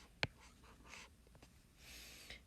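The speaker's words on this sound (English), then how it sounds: "And write that a little bit neater." Pen strokes on paper while working a math solution, with a sharp tap at the start followed by faint, scratchy scribbling and short soft strokes, close and quiet.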